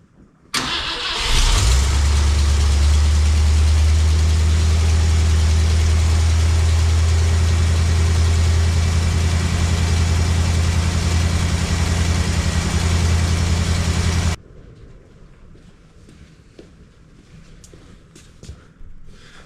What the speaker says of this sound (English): So now we're going to be starting the car up.